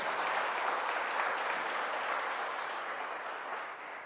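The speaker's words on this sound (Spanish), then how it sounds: "Dele un aplauso a la palabra de Dios." A church congregation claps after a scripture reading, a soft, distant, evenly sustained applause filling the whole stretch and tapering slightly at the end.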